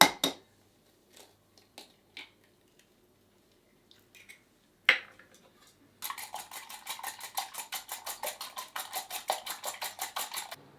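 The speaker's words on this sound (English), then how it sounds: "I'm just going to beat my egg so it's all ready for the last bit" An egg being beaten in a bowl for golden syrup cake batter, heard as a fast run of bright, rhythmic clinks of a fork against the bowl, close and steady for several seconds after a few scattered kitchen knocks.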